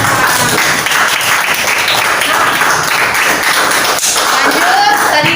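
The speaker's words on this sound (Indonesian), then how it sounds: "Oke, tepuk tangan buat kita." A classroom of students applauds themselves during an art lesson, loud, close clapping mixed with thumps and taps, with voices and chatter running underneath throughout.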